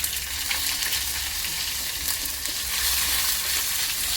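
Ginger-chili paste hits hot oil already crackling with white sesame seeds, producing a loud, steady, dense sizzle that fills the whole stretch with no voices.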